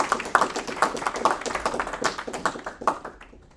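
A thinning round of applause at a tech conference, with several distinct hand claps in an uneven rhythm, fairly close and sharp, tapering off and fading out near the end.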